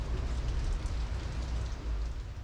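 Steady rain patters on a glacier tour boat in Alaska's Kenai Fjords, a dense, even hiss without voices.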